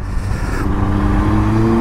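A Yamaha YZF R1 four-cylinder sport motorcycle engine drones steadily and loud at close range, holding a fairly constant rev throughout without any talk.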